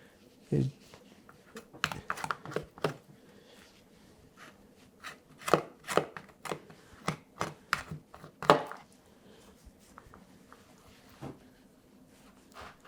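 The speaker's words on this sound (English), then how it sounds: "I'm going to clean any fat from the bone too." A knife cuts and scrapes fat off a lamb chop bone against a cutting board, giving a series of sharp irregular chopping taps. They come close and fairly loud, bunched in clusters with short quiet gaps between.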